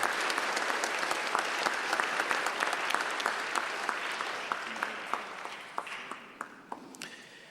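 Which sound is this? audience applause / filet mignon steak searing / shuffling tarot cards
audience applause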